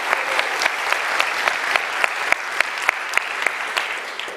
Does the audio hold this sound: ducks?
no